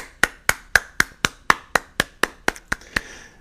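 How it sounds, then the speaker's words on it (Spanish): About a dozen sharp, evenly spaced claps, close and loud, in a steady rhythm at a rap battle, with no talking over them. "Aplauso para Napo, mira."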